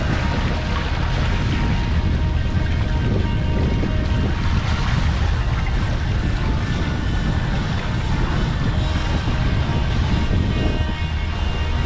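A sailboat motoring out of an anchorage off Antigua, its inboard engine giving a steady low drone mixed with broadband wind and water noise throughout.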